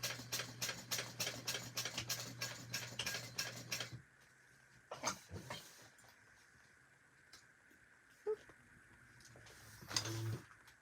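A sewing machine stitches fabric in a rapid, even run of needle ticks over a low motor hum for about four seconds, then stops. A few scattered clicks and handling knocks follow, with no talk.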